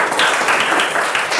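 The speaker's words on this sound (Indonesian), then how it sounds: "Berikan tepuk tangan untuk teman-teman kalian dari kelompok 1" Brief burst of classroom applause for a student group during a school guidance lesson, dense steady clapping from many hands, close and fairly loud.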